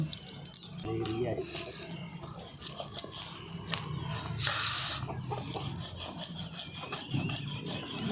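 A rolling pin presses and rolls kachori dough balls flat on a board, making soft repeated rubbing and wooden scraping strokes close by while someone talks over them.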